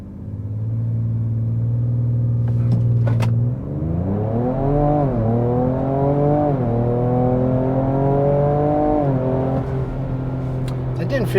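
A tuned Ford Ranger Raptor with a Ford Performance ProCal tune accelerates hard, its engine drone climbing steadily in pitch through a gear change. The sound stays loud, close and continuous from inside the truck.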